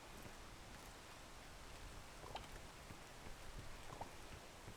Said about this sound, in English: the rain. It reveals like the layout or like the silhouette of the map.